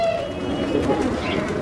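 Pigeons cooing softly at close range in a short burst, under faint talk and background noise.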